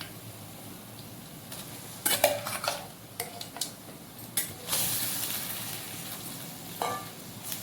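Chicken frying in a pan for a green chicken fry, with a soft steady sizzle under clattering spoon scrapes and metal knocks as it is stirred, fairly quiet and close.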